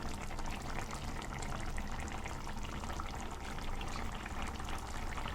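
Pink perch fish curry bubbling in a pan, a dense continuous crackle of small bursting bubbles and sizzling, close and moderately quiet, steady throughout with no talk.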